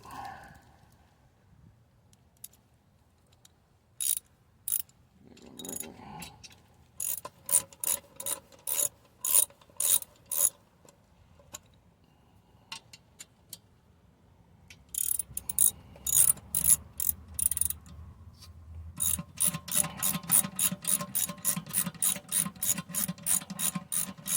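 A 3/8 drive ratchet with a 1/2 inch socket clicks in quick, rhythmic bursts of pawl ticks, at first spaced out and then in longer, faster runs, close by and fairly loud.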